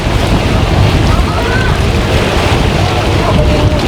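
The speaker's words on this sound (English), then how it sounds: "sailing around the islands on a catamaran, 60 foot." A 60-foot catamaran sails on the sea off Pattaya, Thailand, heard as a loud, steady rush of wind buffeting the microphone over churning waves and water against the hull, continuous and close throughout.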